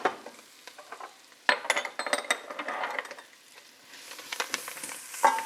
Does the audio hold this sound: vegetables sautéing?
yes